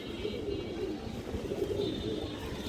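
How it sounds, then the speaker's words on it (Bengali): A pigeon coos softly in a few low rolling phrases, fairly faint, against a quiet background. "কবুতরটা খুব সুন্দর একটা কবুতর"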